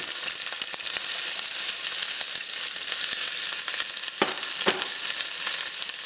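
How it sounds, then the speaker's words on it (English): Chopped onion, celery and carrots sizzle in a large soup pot over medium-high heat, the start of a from-scratch chicken noodle soup. The frying hiss is steady and close throughout, with a few scattered clicks and stirring knocks. "To this we're going to add in our onion,"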